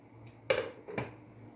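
Opening the lid of a pressure cooker holding chicken curry with thin gravy: a sharp metallic clank followed by a second lighter knock about half a second later, both close and alone in a quiet kitchen.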